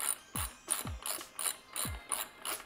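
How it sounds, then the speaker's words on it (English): A 3/8 inch drive ratchet turns an M30 tool to tighten a bottom bracket cup into a bicycle frame, giving a quiet, close series of about eight rhythmic clicking strokes. "Use the included M30 bottom bracket tool with a 3/8 inch drive, and you're gonna tighten"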